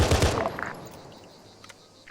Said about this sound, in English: Be advised, I hear gunshots coming in from the west.